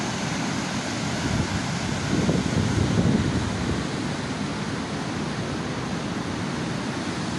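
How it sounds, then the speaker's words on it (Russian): A turbulent mountain river in flood rushes past as a loud, dense, continuous roar of churning water, with a brief surge about midway and no voices. "Бурная горная река."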